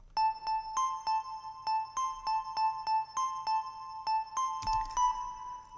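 Synth bells play a steady repeating melody of bright chiming notes washed in reverb, each tone lingering into the next, with a fuller final chord near the end.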